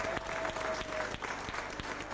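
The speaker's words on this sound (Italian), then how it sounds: "Accogliamo un applauso." Guests at Marco's 50th birthday party clap for him in a short burst of applause, fairly soft and a little distant, with a few sharper individual claps standing out.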